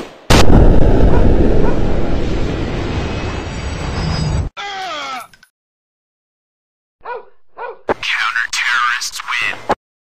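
Loud, sustained automatic gunfire in the FPS Commando Secret Mission mobile game, a dense burst lasting several seconds, followed by shorter bursts, mechanical clicks and more firing.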